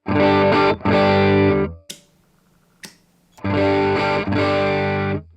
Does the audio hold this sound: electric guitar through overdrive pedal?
yes